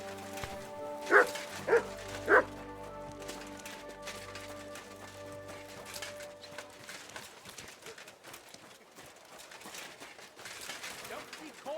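A dog in the medieval game Kingdom Come: Deliverance II barks three times in quick succession, fairly close, before a quieter stretch of ambient game sound with faint movement.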